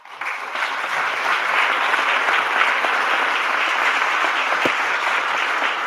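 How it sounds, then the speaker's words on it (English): A crowd claps steadily, a sustained dense round of applause that swells quickly and holds evenly to the end. "Let's give them a round of applause."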